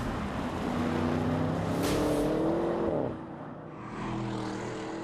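An Audi RS6 estate with wide arches and 22-inch alloys drives past, its engine note rising and falling over a few seconds, then dipping briefly before returning, moderately loud with no talking.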